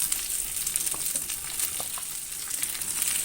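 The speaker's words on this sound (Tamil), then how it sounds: "இந்த மாதிரி ரவுண்டாக கட் பண்ண பீர்க்கங்காய், ஒரு ஃபுல் பீர்க்கங்காயை நான் வதக்குறேன்" Steady sizzling and frying of sliced ridge gourd in a pan, with a few soft clinks of stirring, close up and moderately quiet.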